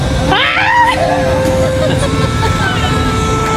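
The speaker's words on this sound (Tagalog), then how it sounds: "masarap sumigaw pag nasa taas ka na" People scream together on a tall elevated amusement ride, a loud rising burst of shrieks near the start that trails off into crowd babble and mechanical rumble.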